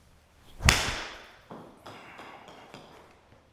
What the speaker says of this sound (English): This will be the first time ever hitting the Maxfli Trifli.